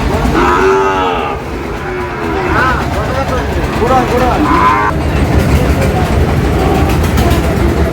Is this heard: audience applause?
no